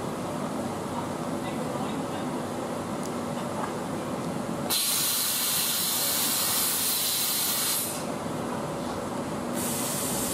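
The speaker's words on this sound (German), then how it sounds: "hier haben wir jetzt den Eurocity von München nach Bologna" A EuroCity passenger train running from Munich to Bologna passes close by on the line at Kufstein, with a steady loud rushing roar and broadband hiss that swells sharply midway and keeps going throughout.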